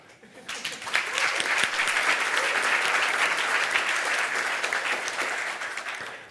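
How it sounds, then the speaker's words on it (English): Applause for conference organizers swells quickly and holds as steady, dense clapping from an audience, then tapers slightly near the end. "I think they deserve applause"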